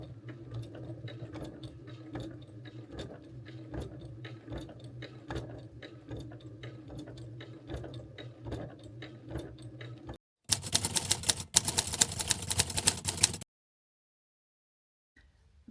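A sewing machine quilts a quilt with a rapid, steady mechanical ticking and clatter for about ten seconds, then a louder, denser burst of stitching before it stops.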